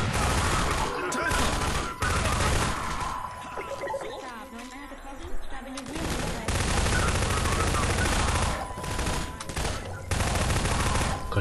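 Half-Life 2 gunfire crackles in dense, sharp bursts, loud and near, broken by a quieter stretch in the middle, with a voice talking over parts of the shooting.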